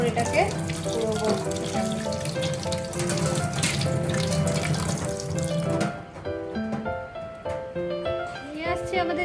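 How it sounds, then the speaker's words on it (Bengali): A mango is washed under a running kitchen tap, water splashing and trickling steadily with clattering handling noises as it is rinsed. "আমটাকে ভালো মতো ধুয়ে নিচ্ছি"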